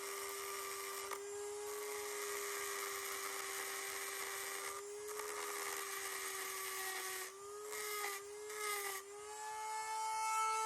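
Rotary tool bit boring out a carburetor adapter for a Honda XR150L, a high, steady whine that shifts pitch as the bit bears into the metal, with brief dips in load near the end.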